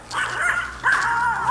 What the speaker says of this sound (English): We're getting yelled at by a little doggy.